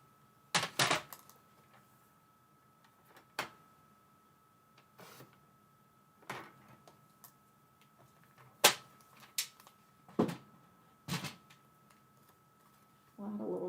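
Scissors trim paper for a decorated journal page, heard as a few sharp, separated snips and paper crackles spread across a quiet room, with faint rustling between cuts.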